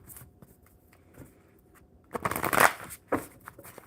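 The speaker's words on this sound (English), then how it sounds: "One more good shuffle." A deck of oracle cards is shuffled, with soft rustling that builds into a loud riffling burst and then a quicker follow-up flutter, heard close up.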